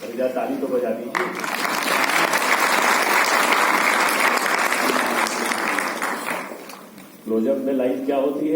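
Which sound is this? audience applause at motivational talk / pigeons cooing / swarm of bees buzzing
audience applause at motivational talk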